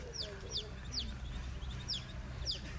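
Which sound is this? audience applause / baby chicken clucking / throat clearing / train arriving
baby chicken clucking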